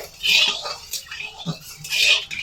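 A metal spatula scrapes and clanks around a hot karai coated with a generous amount of white cooking oil, in bursts of close, bright scraping with soft knocks between them, without speech.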